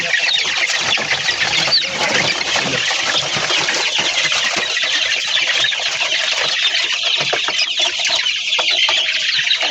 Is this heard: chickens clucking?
yes